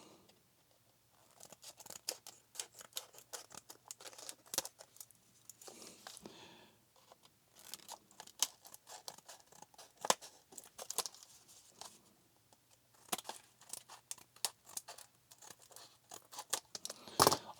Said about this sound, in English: Why don't we just cut this open?